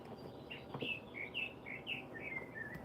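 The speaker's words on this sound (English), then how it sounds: "These birds are just really going in." Several birds chirp and tweet in a quick series of bright calls, fairly close and steady over a soft outdoor background hiss.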